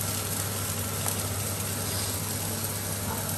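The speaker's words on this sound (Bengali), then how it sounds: "নুহাস পরোটা ভাজতেছে" Paratha frying in a pan, a steady, dense sizzle that holds evenly from start to finish with no talking over it.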